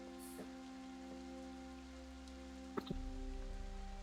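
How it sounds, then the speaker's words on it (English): Cold rain downpour on a street, a faint, steady hiss over a low hum, with a couple of soft knocks near the end. "drenching the streets in a cold downpour"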